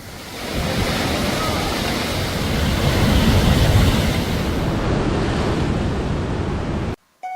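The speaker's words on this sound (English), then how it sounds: "Jongbang Waterfall." Steady roar of the 75-foot Jongbang Waterfall on the rocky coast at Seogwipo, Jeju, a loud, continuous rushing wash of falling water mixed with wind buffeting, cut briefly near the end.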